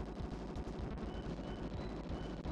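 Rapid gunfire in the video game Bazooka Blitzkrieg, a dense continuous burst of shots and impacts filling the whole stretch at moderate level with no talking.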